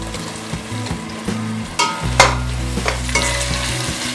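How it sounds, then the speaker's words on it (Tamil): Tomatoes go into a hot pan of browning onions and fry with a steady sizzle, while a spoon scrapes and stirs in repeated clinking, scraping strokes close by. No one talks. "ஸோ இந்த நேரத்தில் நம்ம தக்காளி போட்டுடலாம்"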